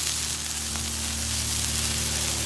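Butter and a little avocado oil sizzle on a hot Camp Chef griddle, a steady, fairly loud hiss with no pauses.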